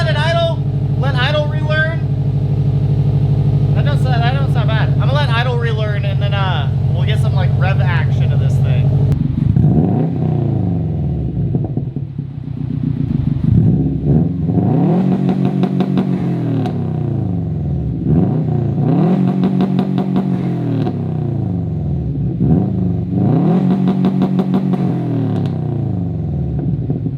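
A Subaru WRX hatchback with a newly fitted downpipe idles, a steady low engine rumble running throughout with a few brief rises, while people talk over it early on.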